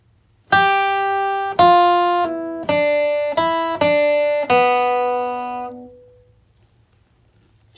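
Acoustic guitar plays the opening measure of a country bluegrass lick in G: six crisp plucked notes in steady rhythm, the last ringing out and fading, heard alone and close.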